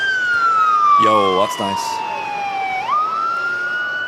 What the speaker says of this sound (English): Them sirens are super loud through the headset.